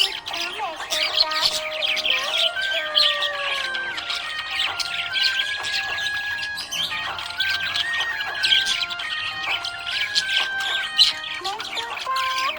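A pet budgie chirps with bright, whistling tweets and short warbling calls in a rapid, continuous run, close and clear, over a soft background of music.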